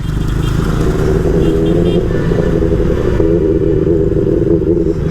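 A Benelli 600i inline-four motorcycle engine drones steadily and loudly at a constant pace while riding, a dense continuous roar with no pauses.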